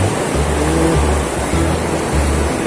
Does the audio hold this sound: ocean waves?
yes